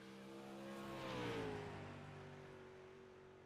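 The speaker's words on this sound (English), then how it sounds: "Hugh Escobar, car 72's heading out onto the racetrack" A 305 sprint race car, number 72, drives out onto the Cedar Lake Speedway track, its engine revving and swelling as it passes, then settling into a fading steady drone; faint and somewhat distant.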